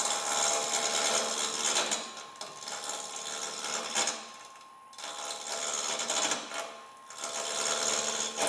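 A wood lathe spins a basswood blank with a continuous close whirring drone and a steady tonal hum, swelling and dipping slightly as the tool works the wood, with no voices.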